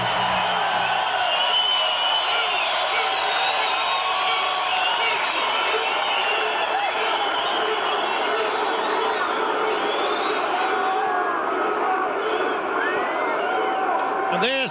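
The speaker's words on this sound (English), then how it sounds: "And there's the crowd." A boxing crowd at Parramatta Stadium roars and whoops steadily as a fighter enters the ring, a dense, continuous cheer with a commentator talking over it.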